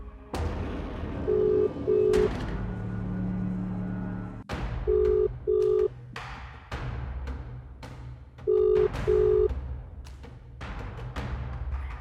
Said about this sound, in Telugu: వాట్సాప్ కాల్లో కూడా ఫోన్ అయితే రింగ్ అవుతుంది